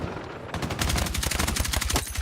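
Rapid automatic gunfire in the video game Battlefield 6, a loud burst of closely spaced shots lasting a couple of seconds, close and alone.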